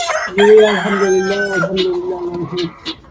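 A rooster crows loudly up close on a hobby poultry farm, a long drawn-out call, followed by a few softer clucks from nearby chickens.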